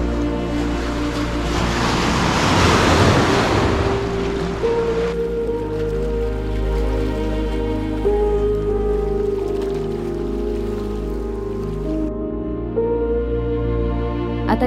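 Sea water surges into a small rocky cove on the coast at Nivti, a loud, full wash of surf that swells and then settles into a steady churn, with no voices.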